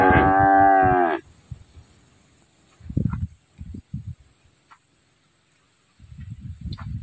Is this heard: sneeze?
no